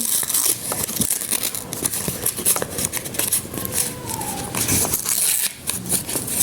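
A paper surprise packet is handled and opened, with repeated crinkling, rustling and tearing of paper close by in irregular bursts.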